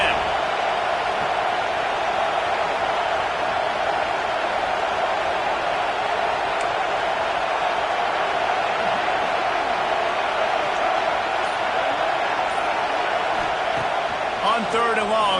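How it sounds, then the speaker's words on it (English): A loud, continuous roar from a football stadium crowd at a USC versus Notre Dame game, urging on the defense, sustained evenly for about fifteen seconds with a few faint sharp accents near the end. "The roar of the crowd trying to fuel this defense to keep them pinned in their own end."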